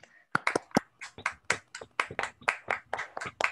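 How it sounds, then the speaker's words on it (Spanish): Applause breaks out for a speaker after an online evening talk on solidarity and cooperative economics in Mexico, with rapid, uneven hand claps from a handful of participants, fairly close and dry, building into steady clapping over several seconds. "vamos a regalarle un aplauso a Martín Ortega"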